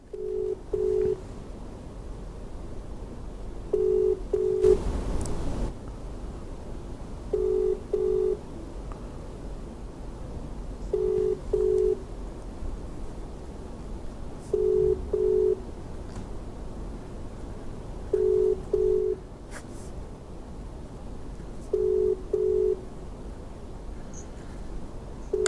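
A telephone busy tone heard during a live phone call made on air, repeating in short double pulses about every three and a half seconds across the whole stretch, steady and moderately loud over a low background hum, with no talking.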